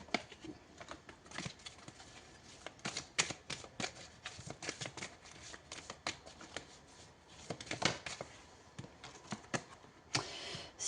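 Tarot cards being shuffled and drawn, with a steady run of close, crisp paper riffles and soft slaps that keep coming without pause, and no one talking.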